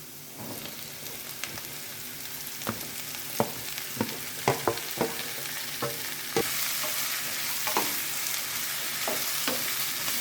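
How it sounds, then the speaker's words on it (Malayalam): Chopped bottle gourd sizzles and fries in a pan for a Kerala-style thoran, with a steady hiss under scattered sharp scrapes and clicks of a spoon stirring, growing slightly louder partway through. "ഇനി നമുക്ക് കട്ട് ചെയ്ത് വെച്ചിരിക്കുന്ന ചുരക്ക ഇട്ട് കൊടുക്കാം."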